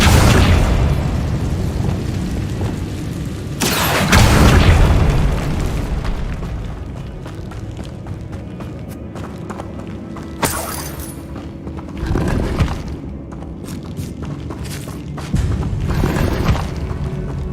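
Blasts of the Incendio fire spell in Hogwarts Legacy, deep booming bursts that whoosh and crackle, several loud hits spread unevenly across a continuous rumbling game soundscape.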